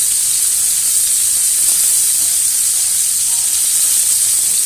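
Rib-eye steak searing in a cast iron pan, a loud, steady close sizzle and hiss that holds unbroken throughout, with no talk.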